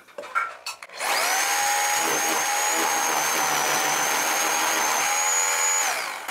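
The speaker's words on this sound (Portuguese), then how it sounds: "Vou deixar um furo só aqui, ó." Power drill boring a hole through a wall for a split air conditioner installation, with a dust collector attached; a steady, loud whine runs for about five seconds after brief handling noises, then winds down.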